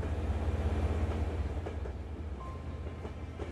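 Train rolling on rails in the zombie video game Zompiercer, a continuous low rumble with faint rhythmic clicks of the wheels, steady and close.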